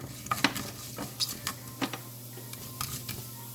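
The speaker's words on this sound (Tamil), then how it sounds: "கடுகு நல்லா வடிக்கட்டும் பெருஞ்சீரகம் போடுறேன்" Mustard seeds and fennel crackle in hot oil for prawn masala, giving scattered sharp pops and ticks over a steady low sizzle, with a few louder spits close by.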